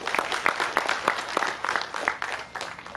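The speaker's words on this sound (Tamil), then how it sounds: "இதற்கு ஒரு பெரிய கைத்தட்டல்." Audience at a Tamil film-industry event applauds a speaker's announcement, with a brief burst of moderately distant, fairly sparse clapping with distinct individual claps.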